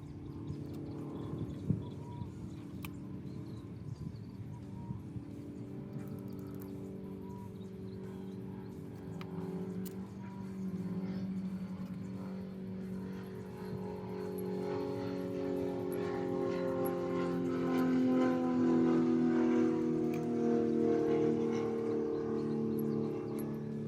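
A 3rd gen Cummins diesel engine fitted with a Fleece Cheetah turbo cranks and starts, then idles with a low rumble and a rising whistle from the turbo spooling up over about twenty seconds.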